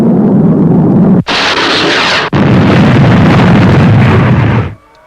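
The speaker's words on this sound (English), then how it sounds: "Fire missile." Sci-fi missile launch and explosion from a 1963 space-patrol puppet series: a loud, sustained roaring blast broken by two brief cuts, then cutting off abruptly near the end.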